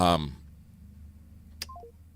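A telephone keypad sends a short beep and then a quick run of falling dialing tones while calling a hardware store, Nelson Ace Hardware. A voice fades out just before the tones begin.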